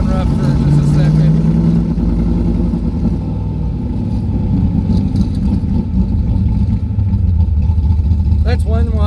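Car engine idling roughly on choke after extra gas is fed, a loud close uneven rumble under someone talking.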